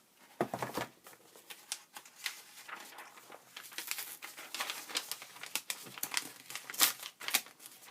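Music paper and hymnals are handled close by, giving sharp crinkling and rustling bursts in an irregular rhythm, fairly quiet overall with no talking.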